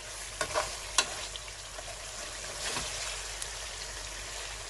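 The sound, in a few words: chicken karahi stir-frying in a pan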